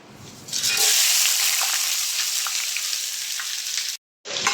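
Two kilograms of sliced onions frying in hot oil for a restaurant-style channa masala, a loud steady sizzle that starts after a quiet moment and holds broad and continuous, dropping out briefly near the end.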